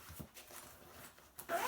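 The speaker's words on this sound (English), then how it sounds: "Zip it up." A zipper on a Mystery Ranch Scree 32L backpack is pulled closed in a couple of quick, close rasping strokes, with a brief pause between them and a longer final pull.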